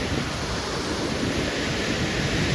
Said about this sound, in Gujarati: પૂરું પાણી ચાલુ છે અત્યારે ડેમનું.